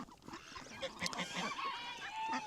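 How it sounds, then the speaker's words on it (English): A goose near a poultry coop gives faint, scattered honks among soft clucks and fowl calls, quiet and somewhat distant against low outdoor background noise. "You can see this goose right here."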